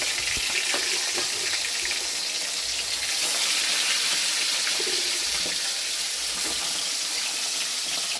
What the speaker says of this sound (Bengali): এই কড়াইয়ে তেল দিয়ে দিলাম, এইগুলো গরম হয়ে গেছে। আমি মাছগুলোকে ভেজে নিই।